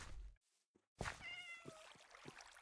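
Cat meows in a farming video game, a couple of short tonal calls after a brief muffled thump, fairly clear over a quiet background.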